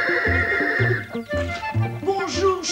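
A black horse neighs and whinnies in repeated, loud, close bursts around a farmyard, with voices and other sounds running alongside the calls.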